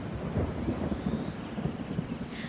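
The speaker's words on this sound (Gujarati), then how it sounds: "એક દિવસ જંગલમાં જોરદાર વરસાદ પડી રહ્યો હતો." Heavy monsoon rain pouring in a forest with thunder, a steady loud hiss of rainfall under a low rolling rumble throughout, with no voices.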